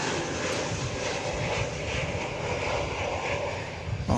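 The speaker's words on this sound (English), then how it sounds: "Yes, this is a 29-year-old 747-400." A Boeing 747-400 four-engine jet airliner at DFW Airport gives a loud, steady broadband engine roar that holds throughout with a slight rise at the end, with no voices over it.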